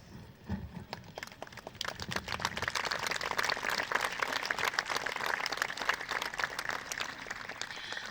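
Sustained audience applause at a Sant Joan festival evening in Prats de Lluçanès, a dense crowd clapping that swells after a soft start and holds steady, loud and close.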